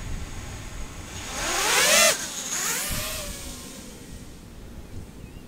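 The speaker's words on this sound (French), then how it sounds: "On va armer les moteurs." Drone motors arm and spin up with a rising whine that peaks and sweeps down, then settle into a steadier hum, close and fairly loud.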